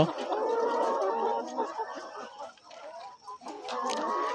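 Laying hens in a layer farm, some of them sick, cluck in a close, busy chorus that dips briefly in the middle before swelling again.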